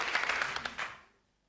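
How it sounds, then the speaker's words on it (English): Studio audience applause on the 1991 game show Big Break, a burst of clapping that swells briefly and then fades out to silence. "Ladies and gentlemen, a big clap."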